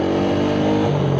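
A Suzuki Satria FU motorcycle engine runs at a steady, loud, buzzy idle-to-rev note, close and continuous with a slight pitch shift near the end.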